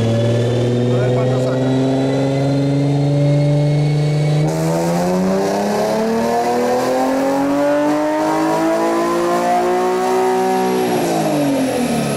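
Tuned car accelerating hard through third and fourth gear, loud and close, engine pitch climbing steadily, dropping at a shift near five seconds, rising again and falling off at the end.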